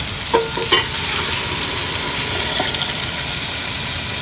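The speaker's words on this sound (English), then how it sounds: "Let's drop in the tomato sauce." Tomato sauce poured into a hot pan of sausage and meatballs, a couple of quick splashes followed by a steady, loud, close sizzle.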